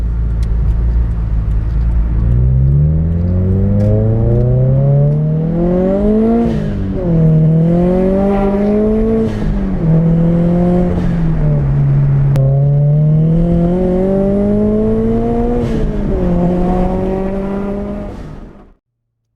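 A Scion FR-S engine on a test drive after a loss-of-power diagnosis and new spark plugs revs up through the gears, rising in pitch repeatedly with brief dips at shifts, loud and close, then cutting off at the end.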